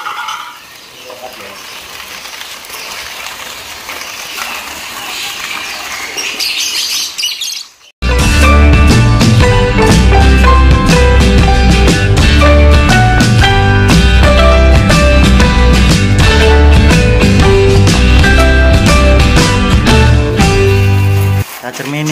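Songbirds at a bird dealer's stock of kapas tembak, kacer, murai batu and jalak starlings chirp and call densely and loudly, first faint and distant, then a sudden full, continuous chorus of many overlapping tweets.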